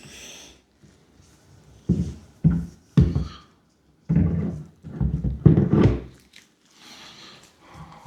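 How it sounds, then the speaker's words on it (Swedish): A door is lifted back onto its freshly greased hinge pins, producing a series of close, dull wooden thunks and knocks separated by short pauses. "Och så hänger vi tillbaka dörren igen."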